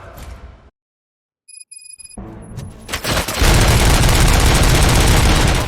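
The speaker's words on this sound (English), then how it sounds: "Gunshots? What's going on?" Sustained loud gunfire from RoboCop: Rogue City, a dense automatic-weapon fusillade that erupts after a brief quiet stretch with faint electronic tones and keeps roaring continuously to the end, close and heavy.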